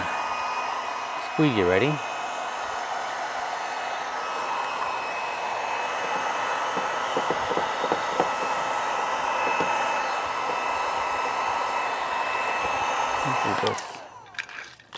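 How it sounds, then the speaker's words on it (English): A heat gun blows a steady, loud rush of hot air onto a BMW door handle during a sticky-handle repair, running continuously for most of the clip before cutting off, with brief talk near the start. "we'll get our heat gun"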